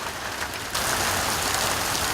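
Steady rain pours down, a dense hiss of drops on surfaces that grows louder after a moment and continues without pause.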